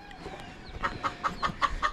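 A broody hen, one of a mixed flock, clucks in a steady, evenly spaced series of about six short, close clucks after a softer opening.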